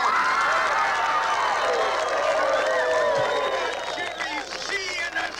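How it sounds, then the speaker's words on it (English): Crowd applause and cheering at a drag race in a movie scene, a steady roar of many people under loud voices, easing slightly toward the end. "Another big round of applause for my very good friend."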